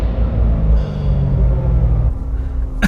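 A Chevrolet Corvette C7 Z06 with a 6.2-liter LT1 V8 settles from its startup into a loud, deep, steady idle rumble, then drops abruptly to a quieter idle near the end.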